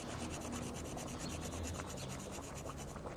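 A whole nutmeg rasped against a grater while cooking a slow-cooked Italian family stew, making a steady, close, continuous scratchy rubbing with no pause.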